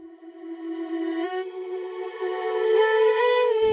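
Vocal sample in FL Studio, pitched up two semitones, time-stretched and reversed, a sustained harmonic tone that wavers, slides and brightens over a few seconds before cutting off abruptly.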